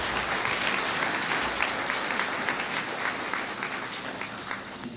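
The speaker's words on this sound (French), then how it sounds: "Applaudissez pour le vrai prophète," Church congregation applauding for a prophet, a continuous dense wash of many hands clapping loudly for the full duration, close and steady with no break.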